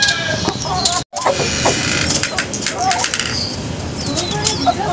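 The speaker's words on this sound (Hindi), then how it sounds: "इस मुर्गी की भी किसी से भी, कभी किसी से कभी किसी से लड़ाई होती है इसकी" Hens fighting inside a cage on a goat farm, with loud bursts of flapping wings, scuffling and clucking close by, briefly cut off for a moment before the commotion resumes.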